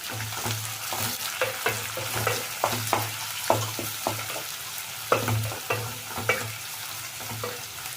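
Vegetables and onion frying in oil for upma, with steady soft sizzling and repeated sharp spatula scrapes and clinks as the pan is stirred, close and fairly quiet, no talk.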